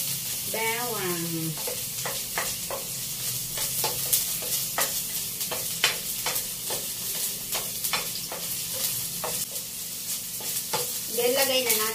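Garlic and onion sauté in a pan for a stir-fry, a close steady sizzle with regular scraping stirs, while a voice talks near the start and again at the end.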